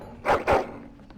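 A dog in the video game Dragon Age: Origins gives two quick, close barks in succession, followed by quiet.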